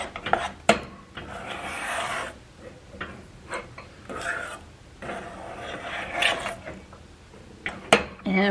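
A spoon stirs a melting peanut butter or chocolate fudge mixture in a pan, making repeated close rasping scrapes against the pan in an uneven rhythm, with occasional sharp knocks.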